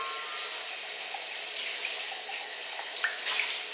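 Water pours steadily into a pot, two cups measured out for a sweet rice recipe, a continuous bright splashing rush heard up close with no talking.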